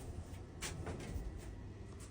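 A glass door of a modular thermowood sauna sliding or swinging open or shut, a soft brief rub and knock at moderate distance, faint against room noise.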